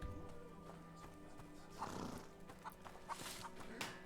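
Video game horse sounds, soft hoof clops and a snorting whinny, mixed with clucking chickens in a busy farmyard ambience, moderately quiet throughout, from A Plague Tale: Innocence.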